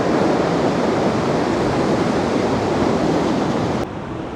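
Sea waves at Blackpool roll in as a loud, continuous broadband wash of surf with wind noise, steady throughout and dropping suddenly near the end.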